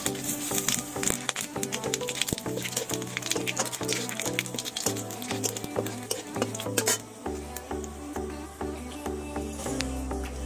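Bay leaf, whole garam masala and cumin hit hot oil in a pan and crackle with a busy, continuous sizzle, punctuated by sharp spatters and the scrape of a stirring spoon.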